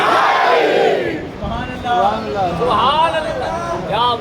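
A large crowd at a Muslim religious gathering in Jaranwala, Pakistan, roaring a chanted slogan back in unison, loud and close with overlapping voices and a leading voice calling out between the group responses.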